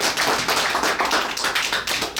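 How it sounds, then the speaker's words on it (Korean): Loud, close applause from a seminar audience greets the speaker, a dense wash of many hands clapping for a couple of seconds with no talk over it. "김윤상 대표님을 큰 박수 맞아주시기 바랍니다."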